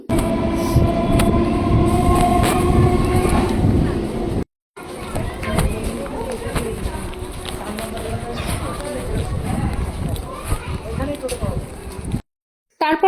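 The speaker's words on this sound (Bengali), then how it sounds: "দেন চাকদা থেকে ট্রেন ছাড়লো আর আমি চলে" A passenger train runs from Chakdah to Kalyani in West Bengal, heard from inside as a loud, continuous rolling rumble with rattling, while a babble of passengers' voices carries on beneath it.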